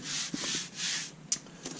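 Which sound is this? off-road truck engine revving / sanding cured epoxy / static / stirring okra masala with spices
sanding cured epoxy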